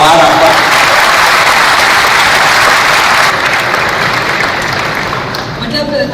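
Auditorium audience applauding loudly and steadily, a dense wash of clapping that tapers slightly toward the end, with a voice briefly audible over it.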